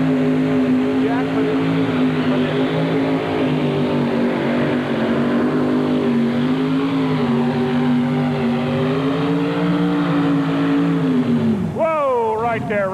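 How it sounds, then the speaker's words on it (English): A mini rod pulling tractor at a 1985 indoor truck and tractor pull roars loudly and steadily down the track for about twelve seconds, its engine pitch sliding gradually before dropping off sharply at the end as an announcer talks over it. "A lot of people, Jack, recognize these little mini rods as the most powerful pulling vehicles in the world."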